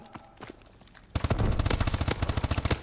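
Rapid automatic gunfire in Call of Duty: Advanced Warfare multiplayer, a few scattered shots and then a sudden loud sustained burst of fast, evenly spaced rounds close up.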